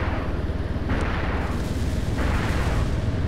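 Rockets fired from a Hind attack helicopter in a military video game explode in a continuous, heavy, rumbling roar, with fresh blasts swelling in around one and two seconds.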